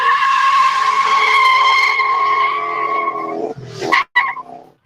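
A loud car engine in a four-speed classic car roars steadily with a strong droning tone, then the sound breaks up into sharp bursts and cuts near the end.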